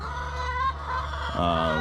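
Barred Rock laying hens, a flock of about twenty at full egg production, cluck and murmur close by in short, throaty bursts, with one louder, drawn-out call near the end.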